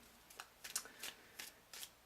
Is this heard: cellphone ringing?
no